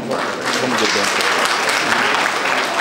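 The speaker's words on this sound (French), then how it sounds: "M. Elhadji Diouf, que je vous demande d'applaudir ici" A room full of people claps loudly and continuously at an integration-day gathering, the applause filling the full few seconds, with some voices mixed in beneath the clapping.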